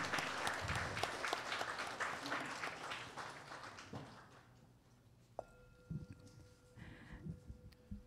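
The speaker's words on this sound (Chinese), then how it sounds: "我们也以热烈的掌声欢迎世界各地众上师、教授、师法师同们善信大德的护持。" Warm applause from a temple congregation in Seattle welcoming masters and guests, loud dense clapping that fades out after about four seconds, leaving a quiet hall with soft tones.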